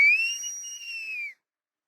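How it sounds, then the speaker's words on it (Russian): A single sustained whistle, a clear high tone that dips slightly before fading out after about a second, heard alone against silence. "Нам тут свистят."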